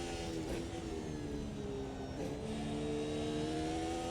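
Simulated 2022 Formula 1 car engine in the racing game Automobilista 2, revving high and steady throughout with rising and falling pitch sweeps as gears change, loud and continuous with no talk.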